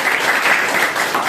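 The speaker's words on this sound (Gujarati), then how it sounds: "શાબાશ, જોરદાર તાળીઓ." Children in a classroom quiz game give a burst of dense, steady clapping, loud and close throughout with no pauses.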